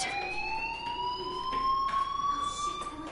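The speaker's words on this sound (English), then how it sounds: "do you hear that fire alarm?" A school fire alarm from the game Life is Strange rings loud and steady, a continuous electronic tone that slowly rises in pitch throughout, with no talking over it.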